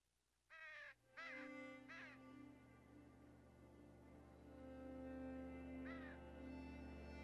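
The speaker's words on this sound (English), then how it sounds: "I hear a crow." A crow caws in the video game Unravel, three harsh calls in quick succession near the start and another around six seconds in, set over a steady hum of in-game ambience.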